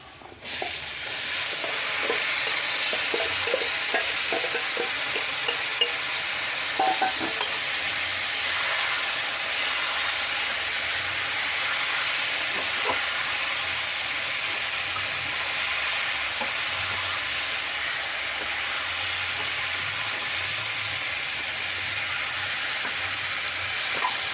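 Koorkka, Chinese potato, stir-frying in a pan with browned onions and curry leaves, a steady close sizzle lasting throughout, broken by frequent scraping and clinking stirs of a spatula against the pan.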